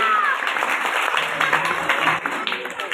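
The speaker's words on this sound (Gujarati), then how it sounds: "જોરદાર તાળીઓના ગડગડાટથી આપણે એમને વધાવીશું" An audience at a Koli community organisation gathering claps to welcome an honoured guest, a dense burst of applause with a voice talking over it.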